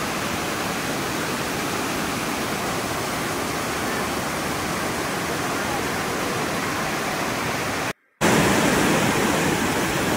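Strong stream of cold water at a waterfall spot on a Mainpat, Chhattisgarh tour, a loud, constant broadband rush that fills the whole clip with one brief dropout near the end.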